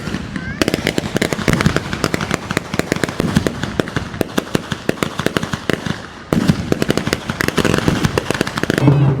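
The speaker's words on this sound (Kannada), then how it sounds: "ಈ ಥರ ಪಟಾಕಿ ಹೊಡೆದಿರೋದು ನಾನು ಎಲ್ಲೂ ಕೂಡ ನೋಡಿರಲಿಲ್ಲ" Dense, rapid bursts of firecrackers crackling continuously at a Hatti Lakkamma temple festival, loud and close, with a brief pause before the volley resumes.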